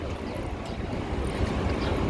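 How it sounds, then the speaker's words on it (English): Wind gusting through downtown Chicago on a warm summer day, a steady low rumbling roar of air buffeting the microphone that does not let up for the whole couple of seconds. "A little bit windy in some spots,"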